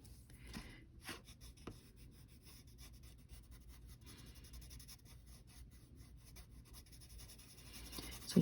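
A pencil draws and shades a Yoda picture on paper, a soft, steady scratching and rubbing that is faint and close, with a few sharper strokes.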